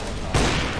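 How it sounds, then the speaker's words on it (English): A flashbang grenade goes off in a first-person shooter match on a graybox map, a single muffled burst arriving mid-clip after a quiet stretch and leaving a hissing wash behind it. "Flashbang behind you guys."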